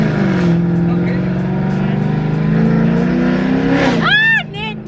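A loud Camaro ZL1 engine, rated 900 horsepower, drones and revs steadily, shaking the car, then rises in a quick rev near the end while a voice talks over it.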